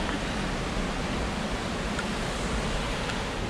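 Steady broadband rush of a waterfall on Siouxon Creek Trail, a continuous loud wash of falling water filling the whole stretch without pause.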